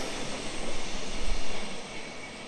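A Tangara passenger train, set T37, passing platform 2 at a suburban station, a steady rumbling roar of wheels and motors that swells briefly and then holds, with no talking.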